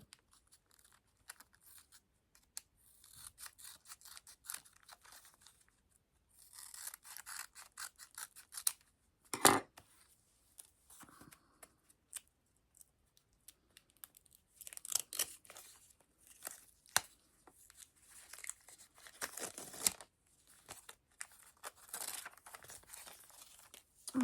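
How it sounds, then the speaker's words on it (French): Panini Disney sticker packets being torn open one after another at close range, with quiet irregular ripping, crinkling foil and paper rustles and a few sharper tears, and no talking. "Je vais ouvrir donc mes 5 pochettes du jour."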